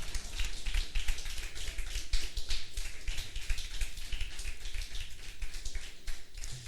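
Church congregation applauding together in a hall, a steady dense patter of many hands clapping at moderate distance, with no speech over it.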